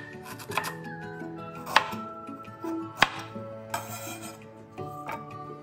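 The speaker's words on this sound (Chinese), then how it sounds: "40克生姜，去皮后再切成薄片。" A kitchen knife slices peeled ginger into thin slices on a cutting board, making soft, close, scraping cuts with a few sharper taps, over quiet background music and without speech.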